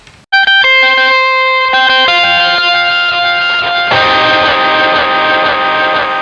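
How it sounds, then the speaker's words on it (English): Electric guitar notes shifted by a whammy pitch pedal; bright harmonic tones with an added higher octave, thickening into a dense, loud, effected wash. "With the whammy on, it sounds a little bit more different."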